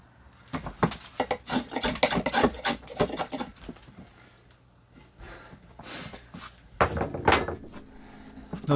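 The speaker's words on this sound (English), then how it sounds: "a beveled down draw knife works really well getting into concave areas like the back of the handle right there" Bevel-down draw knife shaving a wooden axe handle, a series of close, rasping strokes in quick bursts, a pause, then a few more scraping pulls, with no talk.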